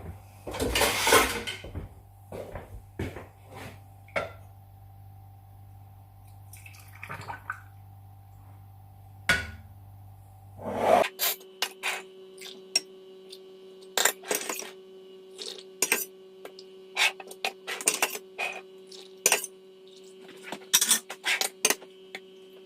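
Tomatoes being scooped into glass canning jars while pressure canning, with repeated clinks and taps of a utensil against glass, a low hum through the first half and a higher steady tone after, no talking.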